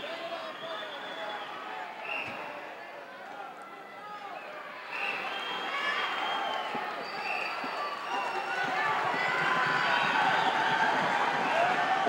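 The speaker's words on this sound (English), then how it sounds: "The crowd now screaming to Jimmy Snuka, trying to encourage him to manipulate his way out of this hold" An arena crowd at a 1979 pro wrestling match screams encouragement to Jimmy Snuka as he struggles in Ken Patera's hold, a dense, continuous roar of many voices that swells louder midway and stays intense to the end.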